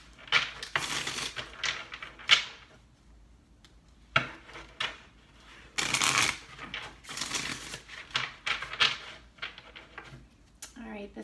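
Tarot cards being shuffled by hand in quick irregular bursts of crisp riffling and soft slaps, close and quiet, with a voice talking between the bursts.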